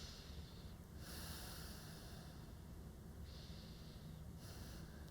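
Slow, audible breaths during a yoga stretch, two long airy inhale-exhale cycles drawn in and out through the nose, close and soft over a low room hum, no talking.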